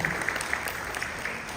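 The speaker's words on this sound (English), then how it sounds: "A big round of applause again for all the panelists that we have today" Conference audience applauding panelists, a brief steady patter of clapping from a moderately distant crowd in a hall.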